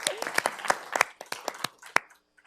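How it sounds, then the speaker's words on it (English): Scattered applause from a small audience at a youth homelessness summit panel, a brief burst of separate claps that quickly thins out and fades to silence. "Feel free to applaud for Teresa if you'd like to."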